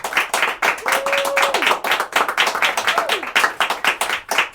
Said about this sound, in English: that was like twice as long as the applause for us